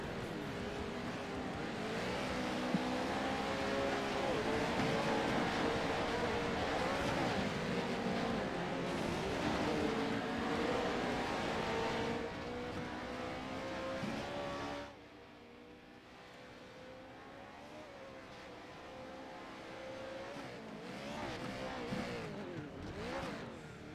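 Race cars from an iRacing short-course Pro2 and Pro4 Challenge Cup event at Wild West, a steady droning engine roar with revving pitch shifts, then quieter after a sudden drop partway through.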